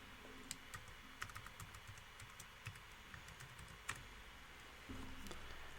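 Keys on a computer keyboard tap in a quiet, irregular series of light clicks as a password is typed during a software installation, faint and close with no talk.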